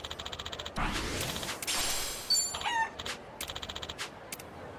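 Chickens in the video game Like a Dragon: Infinite Wealth give short rhythmic clucks, then a brief burst of squawking, then more quick clucking, moderately loud with no talking.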